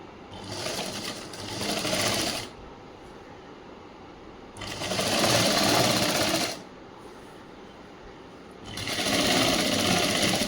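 Sewing machine stitching a chudi top for a government school uniform, running in three separate bursts of about two seconds each, separated by short quiet pauses, close and steady.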